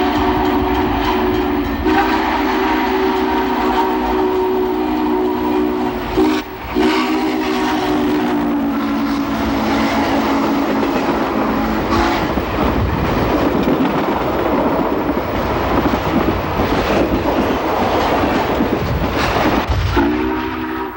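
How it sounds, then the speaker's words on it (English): Nickel Plate 611 steam locomotive charging through Macomb, Ohio at about 60 mph, its whistle sounding in long blasts over a loud, steady roar of wheels and exhaust that fills the whole stretch without a break. "Roaring through Macomb, Ohio at about 60 miles per hour, we sensed that the 611 was just getting warmed up."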